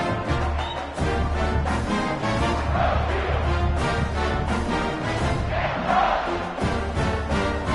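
Stadium crowd in a college football game roaring and cheering continuously, a dense loud wall of voices with swelling shouts, heard without commentary.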